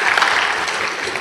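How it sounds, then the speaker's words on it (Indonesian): A church congregation claps during a sermon, a dense, loud wash of applause filling the short moment without pause. "tepuk tangan dulu"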